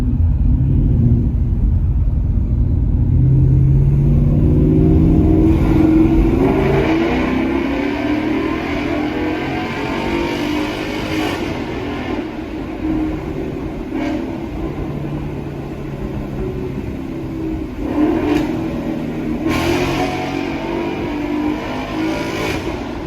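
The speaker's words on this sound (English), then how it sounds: "I was enjoying the sound of the Corsa Extreme Active Exhaust so much" A 2019 Mustang GT fitted with a Corsa Extreme active catback exhaust rumbles loudly and deeply up close, swelling at the start and then settling into a steady, throaty idle with a few short revs, with no talking.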